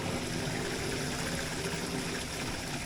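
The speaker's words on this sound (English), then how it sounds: "We're gonna run this up to 5 gallons, then we're gonna see if the water shuts off." Water runs steadily through household plumbing during a smart shutoff valve test, a continuous broadband rush and trickle with no pauses, fairly close and without any talk.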